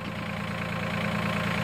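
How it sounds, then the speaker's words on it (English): A tractor fitted with a backhoe idles steadily at close range, its engine holding a constant low rumble and chug with no talking over it. "So tractor's already running."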